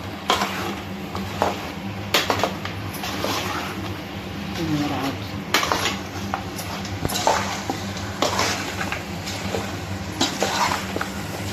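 Masala sautéing in a pan for Sunday special chintamani, with a spoon repeatedly scraping and clanking against the pan over a low sizzle, close by. A person talks over it.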